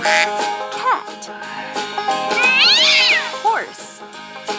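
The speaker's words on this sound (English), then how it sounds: "cat," A cat meows a few times in short, close, bright calls, including one longer drawn-out cry, over light playful music in a children's farm-animal game.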